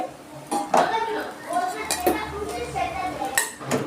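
Cooked sour greens are scraped from a pan into a bowl, making clinks and scrapes of a utensil against metal cookware at close range, with a faint voice in the background.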